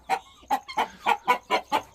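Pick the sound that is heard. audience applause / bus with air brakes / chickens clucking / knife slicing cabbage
chickens clucking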